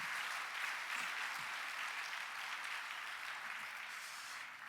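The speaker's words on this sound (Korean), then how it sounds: "우리 모든 영광 하나님께 한번 박수를 올려드리도록 하겠습니다" Congregation at a national pastors and elders prayer gathering gives sustained, even applause, a continuous wash of clapping heard slightly at a distance.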